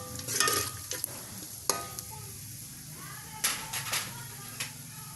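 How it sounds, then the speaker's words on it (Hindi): Whole cumin, cloves, black peppercorns and a black cardamom are dry roasted in a pan for matar biryani, with close scraping stir strokes, a few clinks and a light sizzle. "इसको हमने थोड़ा सा रोस्ट करना है"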